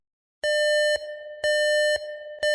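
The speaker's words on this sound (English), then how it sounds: "Suddenly, the loud sound of his cell phone ring disrupts the silence." A cell phone rings loudly at midnight in a silent room, a repeating electronic tone that pulses in a steady rhythm of three bursts with no voices.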